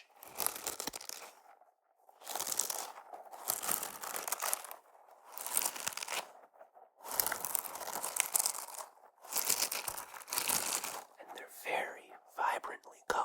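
Rubber poof balls covered in little fingers, brightly colored, crunched and crinkled in bursts close to the mic, several separate squeezes with short pauses between, under soft whispering.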